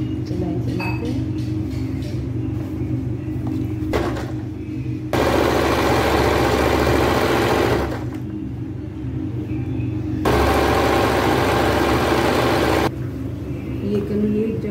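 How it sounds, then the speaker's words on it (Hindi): A sewing machine stitches panels of a six-panel petticoat: two loud, steady bursts of whirring run for a few seconds each, separated by quieter handling sounds. "इस तरीके से सिलाई चलाते हैं।"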